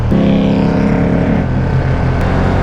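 A KTM 1290 Super Duke R motorcycle engine with a loud, deep, steady roar held close for under three seconds, a rich low rumble with no talk.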